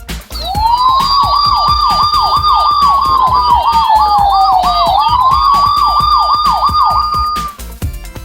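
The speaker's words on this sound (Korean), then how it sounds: "두 번째 효과음은 경찰차의 사이렌 소리를 연상케 하는 이런 효과음이 나오고" A Miniforce Justice Titan toy's police siren effect wails loudly, its pitch sweeping up and down in rapid repeated cycles over a steady electronic tone, with clicking pulses underneath.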